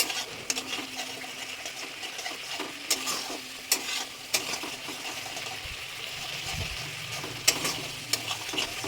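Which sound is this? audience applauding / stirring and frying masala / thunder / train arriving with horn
stirring and frying masala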